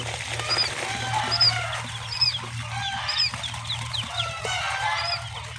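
Quail and chicken chicks brooding together under a cover inside a jute sack in winter, giving repeated high thin peeps at a steady pace over a constant low hum.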